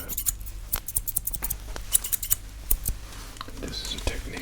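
Barber scissors snip rapidly through hair in close, crisp clicks, a dense irregular run of cuts up near the ear with soft rustling between them.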